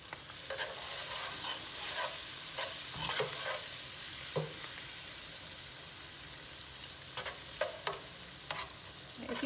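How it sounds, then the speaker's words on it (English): Onions fry in a hot pan with a steady sizzle, cooking down as a utensil stirs and scrapes now and then, close and continuous with no voices. "Just go ahead and let your onions cook down."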